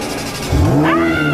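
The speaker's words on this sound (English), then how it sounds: "You hit the start engine button on the steering wheel." A Ferrari engine fires up with a sudden low burst, then climbs into a rising rev that settles into a steady, close idle.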